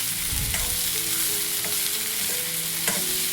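Boiled field beans (avarekalu) fry with onions in a pan, giving a continuous even sizzle with a few soft spoon scrapes and taps.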